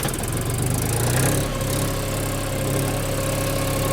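A Lovol Foton 244 24-horsepower tractor engine runs at a steady idle, a loud continuous rumble with a rhythmic mechanical knock, heard up close.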